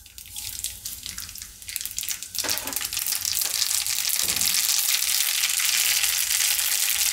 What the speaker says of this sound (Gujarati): તેલ આપણું ગરમ થઈ ગયું છે તો એમાં પહેલાં આપણે રાઈ નાખી દઈશું.